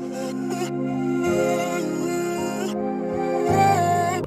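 Another reversed, chopped vocal sample forms a smooth, sustained melodic pad for an ambient trap beat, rich in overtones, with a few quick stuttered cuts near the start and a brighter, louder swell toward the end.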